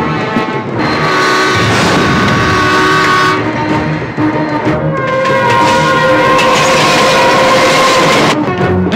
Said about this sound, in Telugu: ఇదే ట్రాక్ లో ఎదురుగా వేరే రైలు బండి వస్తుందిరా.